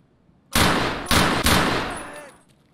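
Gunshots in Escape from Tarkov: three loud, sharp reports fired in quick succession, each cracking hard and trailing off into a long decaying echo, with no talk over them.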